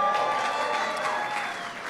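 Brief, steady applause from a crowd at a White House Cinco de Mayo celebration, even and moderately loud, with a faint murmur of voices behind it.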